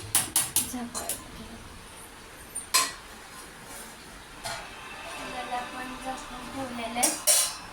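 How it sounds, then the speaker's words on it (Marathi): Masale bhat rice is stirred in a pot with a metal spoon, producing close clinks and scrapes against the pot in short bursts. Someone speaks over it. "तर आता आपण याला मिक्स करून घेऊया हलवूया"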